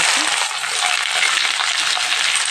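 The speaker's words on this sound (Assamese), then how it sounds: "এইখিনি অকণ ভাজি লওঁ।" Chopped onion, green chili and garlic fry with bay leaves in hot oil for a goat meat curry, a loud, continuous close-up sizzle with faint stirring scrapes and no voices.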